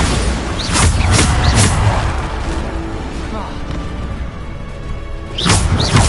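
A Bombarda blasting spell from a Hogwarts video game goes off in several deep booming explosions with whooshing bursts, loud and close, over a dense continuous rumble of game effects.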